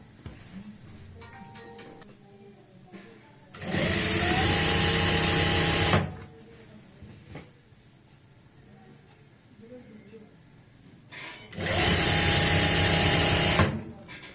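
A sewing machine runs in two loud, steady bursts while stitching down the folded hem of a loose palazzo, with a voice talking in the quieter stretches between and around the stitching.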